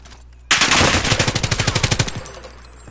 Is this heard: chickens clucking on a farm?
no